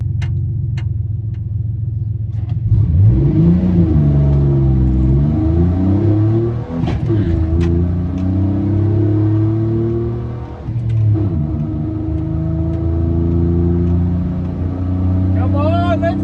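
A stock 4.3 V6 1500 pickup truck making a quarter-mile drag pass, loud engine revving and climbing through the gears with steady rumble throughout, as voices talk over it.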